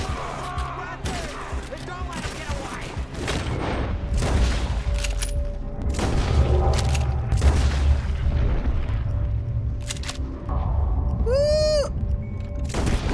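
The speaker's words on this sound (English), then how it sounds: "Now guns, and now shoot." Gunfire in the Red Dead Redemption 2 game: a rapid series of booming shots spread across the clip under excited talking, a voice cheering, and a sheep-like bleat near the end.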